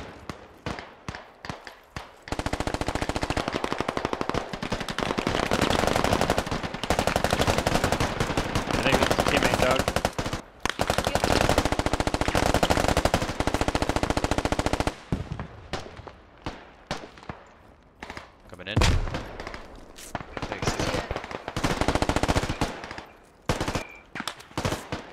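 Dense automatic and rifle gunfire from the Squad video game in a USA versus Insurgents battle: loud, rapid bursts and sustained volleys that pause briefly, then return as scattered, sharper shots.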